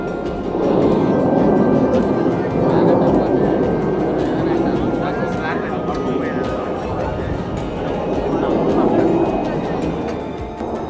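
Fighter jets roar past at a USA air show in a dense, continuous wash of loud engine rumble that swells and fades, with crowd voices murmuring underneath.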